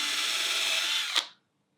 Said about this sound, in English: Now the reason I'm drilling through here is because I want an exact sized hole